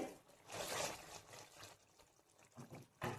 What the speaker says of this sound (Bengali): একটু আমি কড়াটা নাড়িয়ে দেখাই